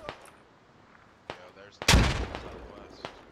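Gunfire in the Squad military shooter game: a few scattered distant shots, then one loud close blast that rings out and decays, followed by fainter single shots, with voices in the background.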